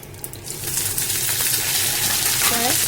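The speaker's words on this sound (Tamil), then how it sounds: "ஒரு பேனில் எண்ணெய் விட்டு கடுகு விட்டு கொஞ்சம் கருவேப்பிலை" Mustard seeds and curry leaves crackle and sizzle in hot oil in a pan, a steady hiss that swells after the first moment and holds close and loud, with a faint voice near the end.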